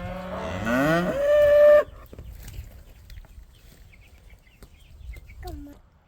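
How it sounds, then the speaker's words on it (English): A cow on a farm gives one loud, close, drawn-out moo at the start, then quieter farmyard ambience follows with a faint bird or chicken call near the end. "Tina, let's go feed the cows."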